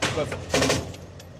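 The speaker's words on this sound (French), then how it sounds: "ils font des tirs isolés" Isolated gunshots from gangsters, a few sharp cracks in quick succession, moderately loud and close, with a fainter shot trailing after.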